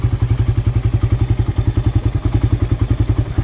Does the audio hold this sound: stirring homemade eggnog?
no